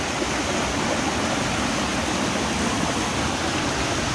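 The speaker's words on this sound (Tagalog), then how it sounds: "Gawa ng lagaslas ng tubig." Rushing stream water in Dolores, Quezon, a loud, steady broadband roar of flowing water with no breaks, close and filling the scene.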